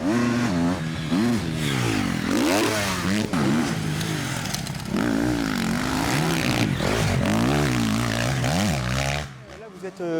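A Triumph 250 or 450 cross-country dirt bike revs and accelerates, its engine pitch climbing and dropping in repeated surges, loud and close, before cutting off near the end.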